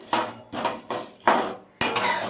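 Whole spices for biryani masala tipped into a dry pan for roasting, giving five distinct rattling clatters spaced across about two seconds, close and loud, with no talking.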